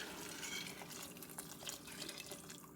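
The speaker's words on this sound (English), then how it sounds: "Chicken broth over here that's been heating up, and we're going to pour that in there." Hot chicken broth poured into a pot for corn chowder, a steady close liquid splash and gurgle running without pause, with no talking.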